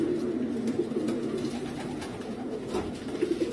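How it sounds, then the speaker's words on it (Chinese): Racing pigeons, including a yellow-eyed male, coo softly in a loft with low repeated murmuring calls at a gentle, steady pace, close but quiet. "这是一只黄眼的也是雄鸽啊！"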